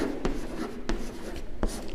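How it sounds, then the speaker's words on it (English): Digits are written by hand for a maths answer, giving soft scratchy pen strokes with three sharp taps against a faint background hum, close and alone. "So for this you have to write this digit here"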